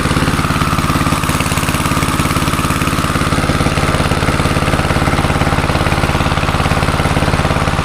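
A boat or pump engine idles steadily at a fishpond, a continuous mid-pitched chugging drone that stays loud and even throughout with no voices.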